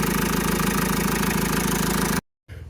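A vehicle engine idles after an oil additive is added, giving a steady, even mechanical drone that cuts off abruptly near the end before faint noise returns.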